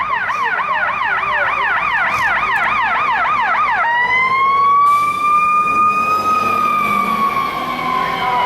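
A wailing siren sweeps up and down rapidly, then shifts to a slower, steady wail as an emergency vehicle passes close by, loud over traffic noise.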